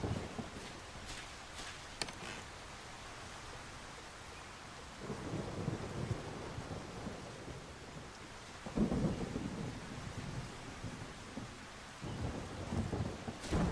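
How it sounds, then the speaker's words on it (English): Thunderstorm with rain in the video game Solarpunk: steady rainfall patters throughout while low rolls of thunder swell and fade at intervals, fairly faint overall. "that's not just rain. That is a thunderstorm."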